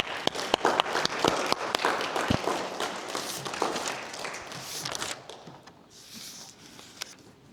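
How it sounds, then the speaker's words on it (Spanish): A congregation at a church service breaks into applause, a loud, crowded burst of clapping with sharp individual slaps that rolls on for about five seconds, then fades to scattered claps and room noise. "Vamos a hacer un aplauso al Señor."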